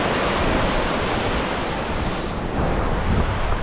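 Fast-flowing stream water rushing under a small countryside bridge, a dense, steady broadband roar with no pauses, loud and close, mixed with some wind noise.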